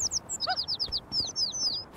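Small birds in the video game Little Kitty Big City chirp and tweet in a quick run of bright, high calls, close and clear over quiet ambience, with a lower call in the middle.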